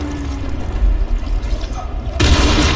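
A heavy explosion in the Dying Light zombie video game booms out suddenly and loud after a stretch of low rumbling game ambience.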